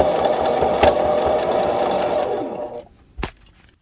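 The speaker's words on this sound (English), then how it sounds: "we're just going to sew all the way around our mitten" A sewing machine runs steadily as it stitches around the edge of a fabric winter mitten. The close, continuous whir stops near the end, followed by a single faint click.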